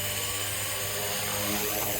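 A Blade 230s Smart v2 RC helicopter fitted with gold upgrade parts and carbon fiber flies close by outdoors, its rotor and motor giving a loud, steady, high-pitched whine and buzz with no break.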